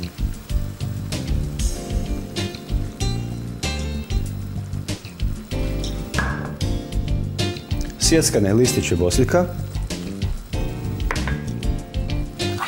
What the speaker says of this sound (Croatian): I piremo na laganoj vatri.